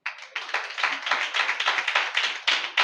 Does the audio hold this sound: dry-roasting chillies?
no